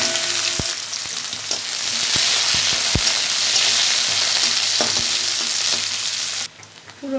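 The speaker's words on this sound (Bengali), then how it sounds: "রসুন পেঁয়াজ কুচানো দিয়ে দিলাম।" Chopped garlic and onion dropped into hot oil with two chillies in a wok, a loud, steady close sizzle with a few sharp clicks and taps, cutting off abruptly near the end.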